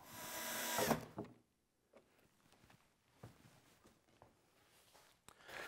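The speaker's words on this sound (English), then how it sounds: "Now I'm going to attach this part with screws" Screws driven into a wooden desk part with a power drill: a loud buzzing burst at the start, then short faint spurts and handling knocks with quiet gaps between.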